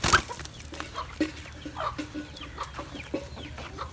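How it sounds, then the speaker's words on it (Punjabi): A hen, likely an Aseel, clucks repeatedly while being caught, a series of short, close, agitated calls with faint rustling between them. "ਇਹ ਮੁਰਗੀ ਨੂੰ ਫੜਨ ਡਿਆ ਵੇ"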